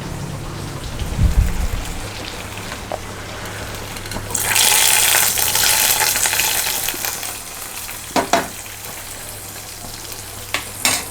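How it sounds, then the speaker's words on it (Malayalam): Hot fenugreek and curry leaf tempering is poured into a fish curry, letting out a sudden loud, crackling sizzle that lingers, preceded by a low clunk and followed by a few sharp pops and spatters, with no talking. "ഇനി നമുക്കിത് കറിയിലേക്ക് ഒഴിച്ച് കൊടുക്കാം"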